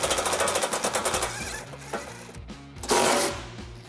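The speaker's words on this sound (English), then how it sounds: "Using a 14mm socket, we'll remove a bolt, another bolt here, and lastly a nut on this side." A ratchet with a 14mm socket turning bolts on the rear bumper beam of a 2019 Subaru Forester, a fast run of close, rattling clicks followed by a few slower separate ratchet strokes, loud and near.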